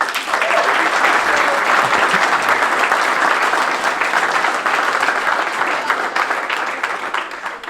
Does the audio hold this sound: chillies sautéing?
no